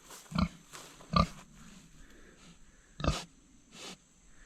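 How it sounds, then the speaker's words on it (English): A pig, likely in heat, grunts in short, rough bursts, four or five snorty oinks spaced irregularly, fairly close and alone with no talking. "Everyone likes animals, so figured I'd show you the pig."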